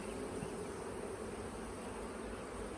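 Honeybees buzz steadily at an open hive during a late-November frame inspection in South Alabama, a dense, continuous drone of many insects close by with no speech.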